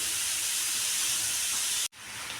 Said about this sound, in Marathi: बघा छान असं आता आपण फ्राय करून घेऊया सतत हलवत राहायचं